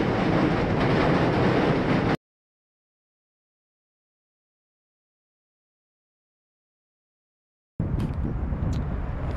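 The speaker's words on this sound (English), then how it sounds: "here comes another train" A train passes as a loud, broad rumbling roar that cuts off abruptly into several seconds of silence, then returns just as loud.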